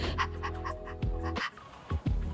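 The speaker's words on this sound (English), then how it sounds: "The stress response causes you to breathe like this." A person demonstrating the rapid, shallow breathing of a stress response, a quick string of short panting breaths close up, about a dozen quick huffs in two seconds that break into a few heavier gasps at the end.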